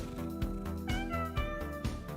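A cat meows several times in quick succession, wavering and clear over a rhythmic music track with a pulsing beat, playing as a stream alert.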